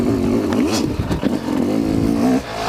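A motorcycle rides on a private race track, its engine droning loudly and close with rising and falling revs as it works through turns, steady throughout with only a brief dip near the end.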